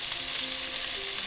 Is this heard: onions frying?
yes